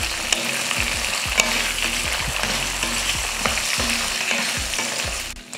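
Tomato and tamarind sautéing in a pan for a chutney, a loud steady sizzle with rhythmic scraping strokes of a spoon stirring throughout, close and alone with no voices.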